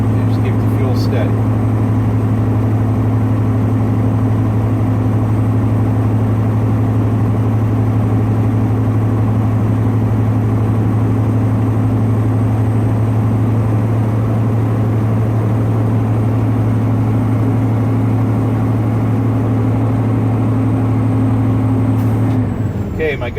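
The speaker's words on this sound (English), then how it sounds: "I'm applying fuel to assist my engine in building up my air pressure" A truck's engine is held at steady fuel to build air pressure, producing a loud, constant drone with a strong low hum that stays unchanged for the whole stretch, heard from inside the cab.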